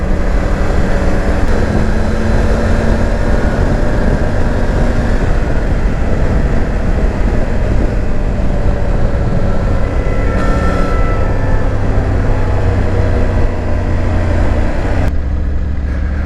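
Triumph Tiger 900 GT Pro motorcycle, a 2020 A2-restricted 35 kW version, pulling away under acceleration as a steady, loud engine drone with rising tones, heavy wind rush throughout and a brief shift near the end.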